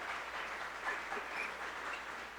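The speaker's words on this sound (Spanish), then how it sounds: "denle un aplauso" A church congregation applauding during a sermon, a quiet, even patter of clapping that sounds somewhat distant and holds steady for a couple of seconds.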